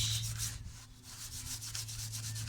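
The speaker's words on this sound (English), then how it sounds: "Let's take it with a brush." Steady rhythmic bristle scrubbing of a car wheel, a rapid back-and-forth rasp that keeps going without a break, close to the microphone, with a low hum underneath.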